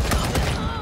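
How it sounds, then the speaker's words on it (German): Heavy artillery gun firing in the video game Wasteland 3, a couple of loud booming blasts in quick succession, close and forceful with rumbling decay. "Boah, dieses Geschütz, ne?"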